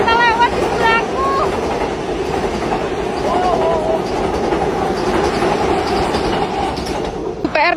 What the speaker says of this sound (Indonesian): Oh, ada kereta lewat di sebelahku.